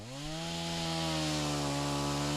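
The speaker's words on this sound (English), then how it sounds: "Brought the chainsaw to uncover some of my targets since they're beneath water." A chainsaw runs steadily and loud at close range at a remote Alaska shooting range, its engine note rising and settling into a sustained high whine with strong harmonics.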